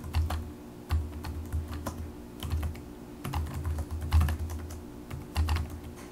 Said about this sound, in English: we're going to press tab and type in July as the month